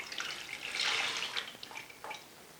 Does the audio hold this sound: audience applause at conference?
no